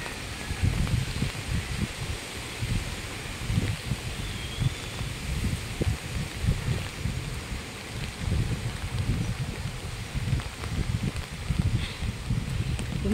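Strong, gusty wind blows around a house, with a continuous rushing hiss, rustling foliage and repeated low rumbling buffets that rise and fall, close and steady.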